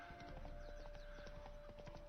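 Horse hooves clip-clopping in a video game, a brisk steady run of hoofbeats over a constant thin tone, close and even throughout, with no talk.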